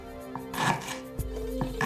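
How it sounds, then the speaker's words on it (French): Knife slicing lemongrass into thin, roughly 1 mm slices, a few crisp chopping strikes on a board at close range, fairly quiet with low background hum. "Donc on va couper la citronnelle, à peu près 1 mm d'épaisseur."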